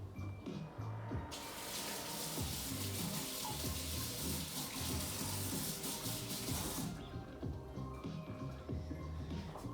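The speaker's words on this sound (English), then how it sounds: "I'm gonna go wash my hands." Hands washed under a running kitchen tap, a steady hiss of flowing water over a sink that swells louder in the middle then eases, close and fairly quiet, with no talk.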